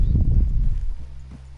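Horse hooves clip-clopping in Red Dead Redemption 2, a quick cluster of close, heavy thuds that fades out over a second or so, with no voices.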